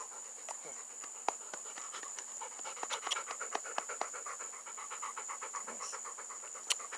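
A dog pants close by in quick, steady breaths that run the whole time, with a few louder huffs standing out over a faint high background hiss.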